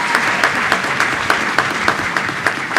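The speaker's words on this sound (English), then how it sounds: "we can't stop clapping for a master class of a session" Conference audience applauding panelists at a youth pre-conference, a loud, dense and sustained wash of clapping from a sizable crowd, with occasional crisp claps close by.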